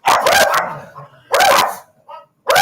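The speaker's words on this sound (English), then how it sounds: "The dogs didn't like that, Wyatt." Several dogs bark loudly and close by in three separate bursts of rapid, overlapping barks, with short quiet gaps and a few softer yips between them.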